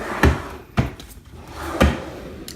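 A drawer in a craft room holding paper crafting supplies and stamps is pulled open and pushed, giving three sharp wooden knocks spaced about a second apart, close and fairly loud, with no talking.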